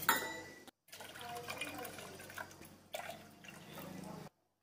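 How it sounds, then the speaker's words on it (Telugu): Water pours into a pot, three cups measured for sago, with a bubbling fill sound, pauses briefly, then keeps pouring, close and fairly quiet. "3 కప్పుల వాటర్ పోసుకొని వాటర్ని బాగా తెల్లనివ్వాలి."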